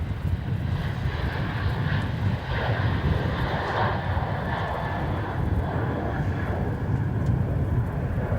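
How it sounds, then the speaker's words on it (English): A Qantas airliner bound for Christchurch roars steadily as it departs Melbourne Airport, its broad jet engine rumble holding at a constant, fairly distant level throughout. "there we wave a fond farewell to Mr. Qantas heading off to Christchurch."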